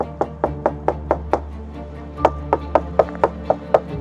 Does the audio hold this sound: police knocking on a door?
yes